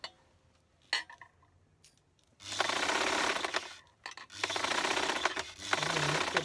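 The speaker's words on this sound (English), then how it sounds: "you must use that stretch stitch for this or a zigzag stitch" Sewing machine stitching a stretchy t-shirt with a stretch or zigzag stitch, loud continuous whirring runs in two long bursts after a few quiet clicks, close and alone.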